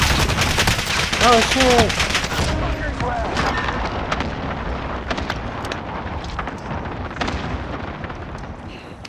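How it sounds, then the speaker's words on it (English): Cluster strike explosions in Call of Duty: Modern Warfare, a loud dense barrage of blasts and gunfire with a rumbling tail, under a shouted voice and battlefield clamour. "Allied cluster strike inbound."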